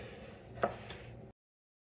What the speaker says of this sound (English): So the goal here is we're just going to slice as thin as we can.